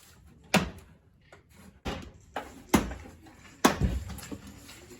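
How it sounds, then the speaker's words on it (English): Plastic door panel on a Geo Tracker being popped loose with a small trim tool: several sharp, close clicks and snaps spaced apart, with faint handling noise between them. "And then pop the door panel off. Got a special little tool."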